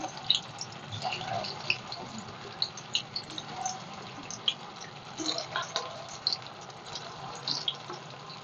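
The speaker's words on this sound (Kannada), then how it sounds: "ಎಣ್ಣೆ ಚೆನ್ನಾಗಿ ಕಾಯ್ದೈತೆ ಇವಾಗ ಒಂದೊಂದೇನೆ ಈ ಥರ ಉಂಡೆ ಹಿಂಗೆ ಹಾಕ್ತಾಯಿದ್ದೀನಿ" Soybean bonda balls fry in a pan of hot oil with a constant fine sizzle and crackle full of small pops, heard close and steady throughout, with a voice faintly underneath.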